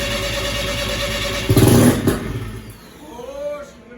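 A Mazda RX7 race car engine cranks with a rapid rhythmic churning, briefly catches with a louder rough burst, then sputters and dies, heard up close.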